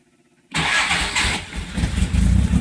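A 1957 Morgan Plus 4 cranks and fires after near silence, then settles into a loud, rough, uneven idle on choke, close by, with no talking.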